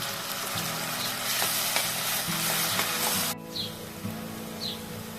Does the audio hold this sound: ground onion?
yes